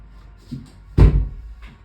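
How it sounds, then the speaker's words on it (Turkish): A door is shut in a home, giving one solid thud with a short knock just before it and a faint tap after it, close and fairly loud with no talking. "Şu kapıyı kapatın çıkartın."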